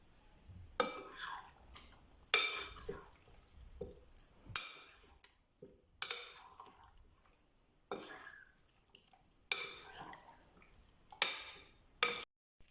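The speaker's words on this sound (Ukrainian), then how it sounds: "Виливаємо все в миску до курячих крил і ретельно перемішуємо." Chicken wings being stirred with marinade in a bowl: a series of quiet, close wet squelches and light scrapes of a utensil against the bowl, spaced irregularly over a near-silent background.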